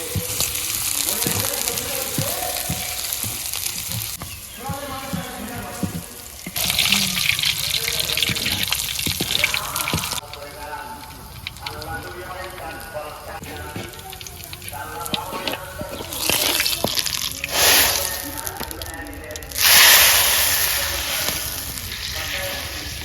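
Chopped garlic sizzles in hot oil for tempering dal in a village kitchen, a steady frying hiss with bursts of louder crackle and some water-like splashing, close and continuous.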